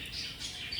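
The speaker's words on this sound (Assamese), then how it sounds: "খুব চৰাই মাত শুনি আছে।" Brief high chirping of birds, a short burst of calls with a faint background hiss.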